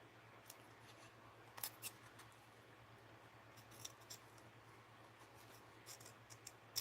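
Scissors snip through tape during a mixed-media art project, a few faint, sharp cuts and crinkles scattered over a quiet room hum.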